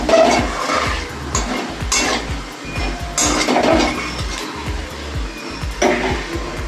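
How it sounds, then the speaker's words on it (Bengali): Dried chillies, bay leaves and five-spice (panch phoron) sizzling in hot oil in a pan, with a steady frying hiss broken by repeated scraping and clinking of a spatula against the metal pan. "আমি এই তেলের মধ্যে শুকনো লঙ্কা, তেজপাতা আর 5 ফোড়ন দিয়ে দিলাম।"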